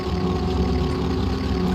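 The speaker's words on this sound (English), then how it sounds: "I already hear engine just absolutely revving it out here." Steady engine drone with a low, throbbing hum from GT race cars held at high revs at a GT World Challenge race, continuous and fairly loud with no talking.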